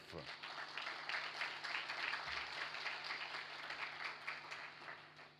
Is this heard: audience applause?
yes